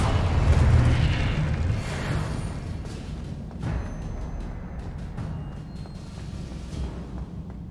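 A Confringo blasting spell explodes in the Hogwarts Legacy video game: a heavy, booming burst opens loud and close, then trails off into a fading rumble with scattered smaller crackles and pops.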